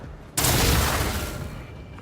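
An explosion or heavy blast of gunfire against a turret in the video game Rogue Trader hits suddenly and loudly, then rolls on as a broad, roaring burst that slowly fades.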